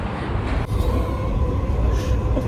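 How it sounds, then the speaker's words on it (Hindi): Riding the Dubai metro: a steady rumble and whoosh of the train in motion fills the cabin, loud and continuous, with a brief dip partway through. "मेट्रो का सफ़र करना पड़ रहा है"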